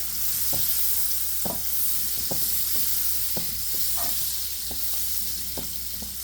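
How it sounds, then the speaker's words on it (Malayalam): A piece of butter melts in a hot pan with a steady close sizzle and hiss, broken by regular light taps and scrapes of a utensil. "ഇതുപോലെ ഒരു കഷ്ണം ബട്ടറാണ് ഞാൻ ഇട്ട് കൊടുത്തിരിക്കുന്നത്"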